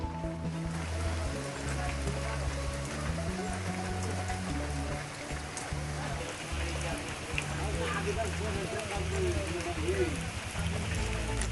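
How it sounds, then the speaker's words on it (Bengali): Heavy rain falls steadily outside in a continuous dense patter with a low rumbling undertone, holding an even level from start to finish. "চলুন আপনাদেরকে কিছুটা দেখিয়ে দিই বৃষ্টিটা কেমন জোরে হচ্ছে।"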